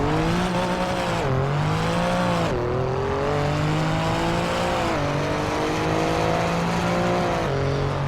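A racing car engine in Assetto Corsa Evo, loud and continuous, its pitch climbing through the revs and dropping sharply at each upshift, about five shifts in a row.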